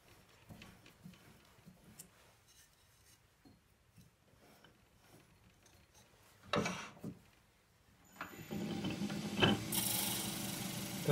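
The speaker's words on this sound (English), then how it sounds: "That rattling is the collar" A loose chuck collar on a wood lathe rattles in quiet, irregular ticks and clicks, then bursts into louder clattering bursts near the end as the work spins up.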